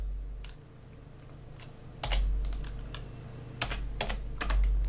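Computer keyboard typing in short clustered bursts of crisp key clicks, close and clear over a low steady hum, with quiet gaps between the groups.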